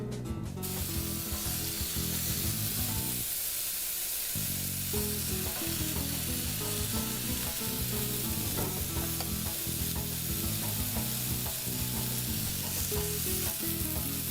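Thinly sliced mahi-mahi fries on a hot griddle, giving a loud, steady sizzle that runs the whole time over a tonal background of what sounds like music.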